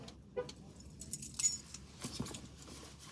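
Keys jangle in short metallic bursts near the microphone, with quiet room background and faint distant movement; no clear talking.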